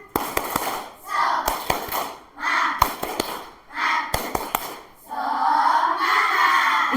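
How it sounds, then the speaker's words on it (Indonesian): A school class does a rhythmic spirit clap, the children clapping sharp patterned beats in unison, with short bursts of chanting voices between the clap groups and a longer shout to finish. "Ayo coba tepuk semangat."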